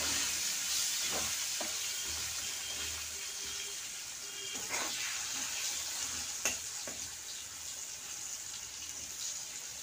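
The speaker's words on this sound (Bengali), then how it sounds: "হলুদ, নুন, আলুটা আমি ভালো করে ভেজে নেব।" Potatoes fry in oil with turmeric and salt, giving a soft, steady sizzling hiss with a few faint clicks of stirring, quiet and continuous with no talking.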